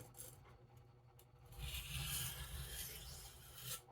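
A knife is drawn across a Farberware soft Arkansas sharpening stone, giving faint, close rasping strokes, with a few short scrapes and then a longer, louder stroke.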